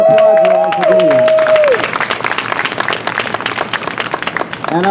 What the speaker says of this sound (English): So I want to applaud you all for doing that.